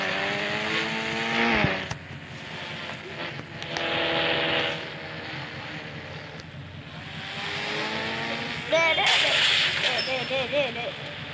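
A McLaren car engine in a driving video game revs up and falls back in repeated rising and dropping sweeps, with a sharp squeal and clunks, and a voice talking over the engine noise.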